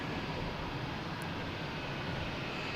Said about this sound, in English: And we have a JetBlue coming in from Nantucket.